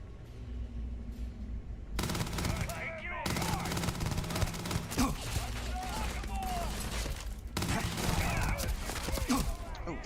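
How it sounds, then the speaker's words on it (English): Enemy gunfire in Starfield rattles in rapid bursts of automatic shots, loud and sustained, with brief pauses between volleys and other game noise underneath. "that guy's up there shooting at me"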